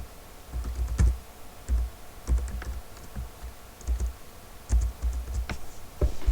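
Fingers type a name into a Microsoft Word document on a computer keyboard, producing quiet, uneven bursts of close key clicks with short pauses between words.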